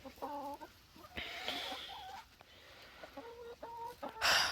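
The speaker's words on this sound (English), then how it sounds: "They're just fighting. Oh no, the chickens." Chickens on a farm scuffle and cluck in short, harmonic bursts, with a sharper squawk near the end; the calls are fairly close, with no talk over them.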